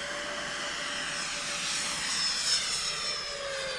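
A radio-controlled model jet roars steadily during its takeoff run, a loud, close, sustained turbine whine with a thin high tone sliding slightly in pitch, no voices over it.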